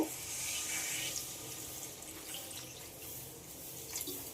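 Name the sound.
water being poured into a cooking pan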